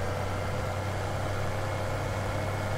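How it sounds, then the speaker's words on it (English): A steady, low tractor engine idles continuously in Farming Simulator 17, a constant rumbling drone with no other sounds. "I love the sound of this tractor."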